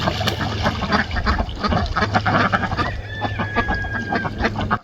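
A flock of ducks running out through an open gate on a farm with a duck pond, honking and quacking continuously and loudly, overlapping calls close by.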